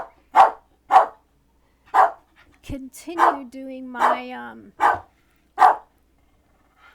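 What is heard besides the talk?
pet dog barking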